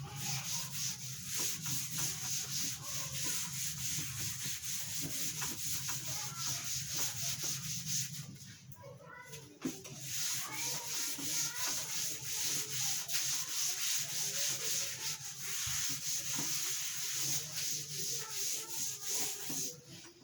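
Board eraser rubbing writing off a classroom board, a steady scratchy back-and-forth swishing that runs continuously for about twenty seconds with a brief pause midway, close and fairly loud, with no talking.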